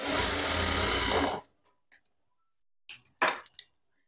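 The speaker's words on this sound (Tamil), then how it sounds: "இப்போ என்ன பண்ண போகிறோம், இங்கேருந்து ஒரு தையல் போட்டு எடுத்துக்கிறோம்." A sewing machine stitches a dart in a blouse with a loud, steady whirring run that stops abruptly, followed by a few faint clicks and then a couple of louder handling knocks.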